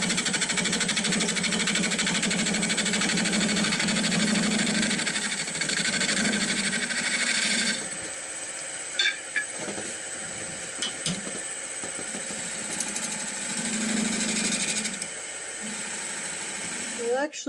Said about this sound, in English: one more cut with my bowl gouge